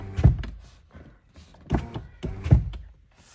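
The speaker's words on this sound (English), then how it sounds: "you can hear the window doesn't slow down. It just goes all the way up until it closes itself" A Hyundai Ioniq 6 power window runs up in short repeated motor bursts and stops with soft thunks as it closes fully, heard close inside the car with no talk.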